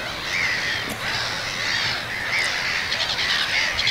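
Crows caw repeatedly in short bursts against a steady outdoor background hiss at an anchorage, the calls moderately close and fairly loud.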